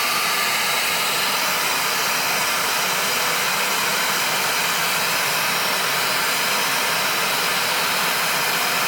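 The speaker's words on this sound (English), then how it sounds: "hot air gun" A hot air gun runs on its maximum setting to heat a bearing during a Husqvarna 266/268 chainsaw rebuild, giving a loud, steady, unbroken airy roar throughout.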